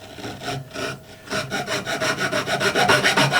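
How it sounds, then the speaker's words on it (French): A hand coping saw rasps through wood in quick, regular back-and-forth strokes, speeding up and growing louder toward the end, close by. "utiliser une petite scie à chantourner à main"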